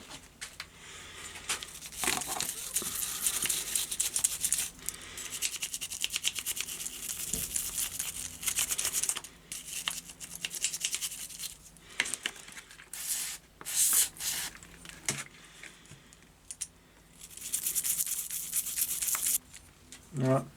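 Brake cleaner hisses from an aerosol can onto an SU HS2 carburettor from a Reliant 850 trike, mixed with bristly scrubbing and scraping in bursts, while someone talks over the work.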